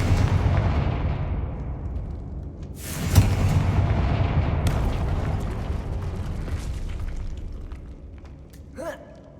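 A Confringo fire-blast spell from the Hogwarts Legacy video game erupts as a loud explosive boom around three seconds in, over a dense rumbling game soundscape that fades slowly, with a brief sharp magical whoosh near the end.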